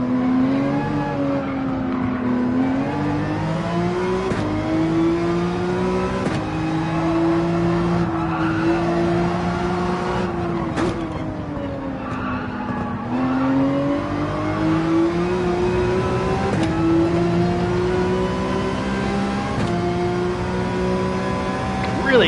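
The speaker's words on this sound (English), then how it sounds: "Really got to rev out third in the 911." A Porsche 911 engine in Gran Turismo 7 revs high and steadily, its pitch climbing and dropping through gear changes, with tire noise and a voice speaking over the drone.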